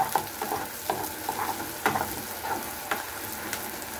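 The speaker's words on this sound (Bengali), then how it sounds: "কাঁচামরিচটা আমি হালকা একটু ভেজে নেব।" Green chilies frying lightly in a pan of ground spices (coriander, cumin, turmeric, chili paste), a steady soft sizzle broken by repeated scraping taps of a spatula stirring at an irregular rhythm.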